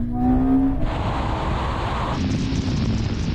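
Ferrari SF90 and 1000-hp Nissan GT-R in a half-mile drag race, engines droning and rising as the cars accelerate, with one shift heard, under heavy wind rush.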